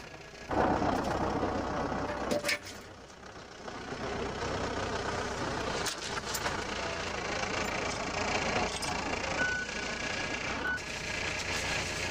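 A tractor engine rumbles and idles steadily at close range while plowing, with occasional knocks and clanks over the continuous drone.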